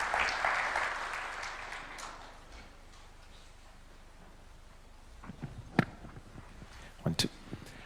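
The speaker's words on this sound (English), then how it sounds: "this deserves another standing ovation and a clap" A crowd applauds loudly after a presidential address in Kenya. The clapping fades out within a few seconds and is followed by quiet room noise and a few scattered knocks and taps.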